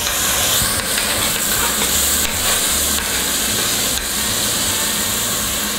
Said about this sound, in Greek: Ανακατεύω και χαμηλώνω.